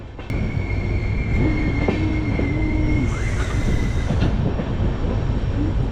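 A train rolls past near Dudhsagar Falls, a dense rumble of wheels and carriages with a sustained metallic squeal and rhythmic clatter, loud and close throughout.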